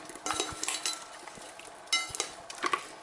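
Potatoes rolled around in meat drippings in a pan while roasting lamb in a halogen oven, giving close metallic scrapes and clinks of a utensil against the pan in short bursts, with no talking.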